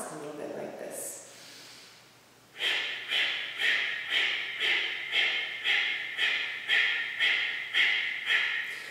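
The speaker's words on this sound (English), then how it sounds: "we force the exhale by contracting the abdominal muscles vigorously" Forced nasal exhales driven by vigorous contractions of the abdominal muscles: about twelve sharp, evenly spaced breathy puffs in a steady quick rhythm, close to the mic, after a brief quieter breath.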